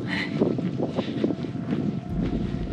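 Steady wind buffeting outdoors on grassy volcanic hills in Auvergne, France, a continuous low rumble with gusty swells and some mic noise, no talking.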